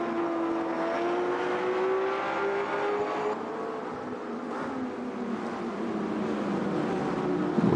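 Race car engines in Automobilista 2 drone steadily with a sustained whine that shifts in pitch as cars such as a GT40, Lexus, Porsche and Toyota run in a sim-racing field, loud and continuous with no talk.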